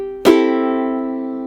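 A single plucked note on a Flight Navigator EQ-A tenor ukulele with Worth brown strings rings out bright and clear, then sustains and fades slowly, heard close and alone.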